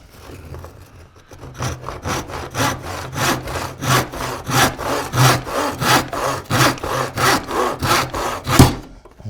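A Japanese pull saw cuts through wood in a steady run of about twenty close, rhythmic strokes, each a bright rasping pass, growing slightly louder and ending with a final heavier stroke.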